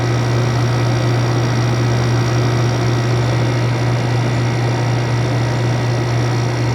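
An older Haier 6000 BTU window air conditioner, model HWR06XC3-T, runs at a steady, fairly loud level, with a constant low hum and broadband fan rush that stay unchanged throughout and no speech.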